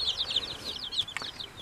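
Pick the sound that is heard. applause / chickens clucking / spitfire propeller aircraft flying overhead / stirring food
chickens clucking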